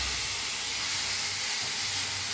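Tomato frying in a pan for egg curry gives a steady, close hissing sizzle that stays even and unbroken throughout, with no voices over it.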